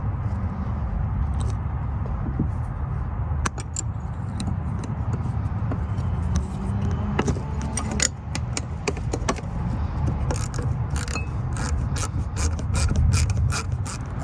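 A ratchet clicks repeatedly and rhythmically, up close, as it loosens the nuts and bolts on the throttle body of a Lexus ES 300 during engine work, with short pauses between bursts.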